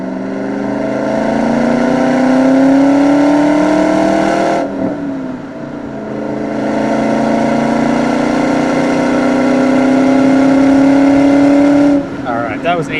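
A 1994 Ford Mustang Cobra engine pulls hard in two long rising acceleration runs heard from inside the car, loud and continuous, with a brief drop in pitch between them at the gear change.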